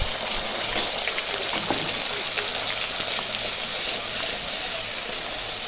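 Potatoes frying in a pan with a ground paste of ginger, cumin and chili, giving a continuous close hissing sizzle with faint scattered crackles and no talking.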